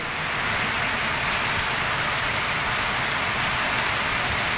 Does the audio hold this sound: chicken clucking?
no